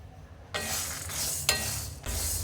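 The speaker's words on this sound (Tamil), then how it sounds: "கருப்புளுந்து நல்லா வறுப்பட்டு வாசனை வருதுங்க." Black urad dal dry roasting in a pan, with dry stirring and scraping noises that begin abruptly and continue in bursts, a sharp scrape near the middle, close and fairly quiet.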